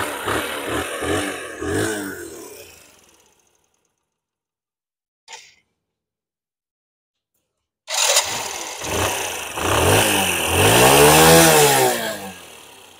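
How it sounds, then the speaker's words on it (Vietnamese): A Custom 90 motorcycle engine runs with a rattling idle, cuts to silence with a brief click, then is started again and settles into a loud, steady idle with rising revs. "Rồi đem nổ máy cho garanti là bao nhuyễn."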